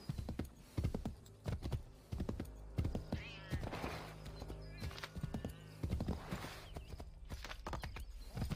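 Horse hooves clip-clop in rapid rhythmic bursts across the clip in the video game Assassin's Creed III, with a whinny and game ambience layered around them.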